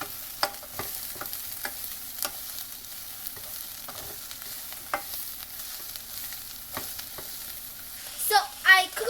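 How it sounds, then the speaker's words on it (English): Shredded cabbage and browned onions fry quietly in a pan, with soft scraping stir strokes at irregular intervals over a low sizzle, followed by a brief louder clatter near the end. "I'm just going to dump my cabbage in. And then I'm just going to mix it all together."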